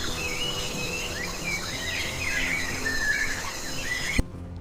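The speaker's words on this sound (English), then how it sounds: "Chimpanzees chatter and screech" Chimpanzees chatter and screech high in a Congo rainforest canopy: continuous shrill squeals and calls at moderate distance over a dense forest hum, ending in one sharp knock.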